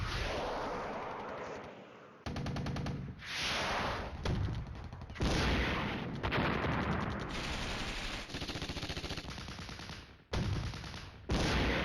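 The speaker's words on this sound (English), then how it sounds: "Those mortars are just beating tar out of that place up there" Mortar fire in the wargame Flashpoint Campaigns: Red Storm, loud continuous booming detonations and rumbling blasts rolling one after another, with brief gaps between bursts and no talking.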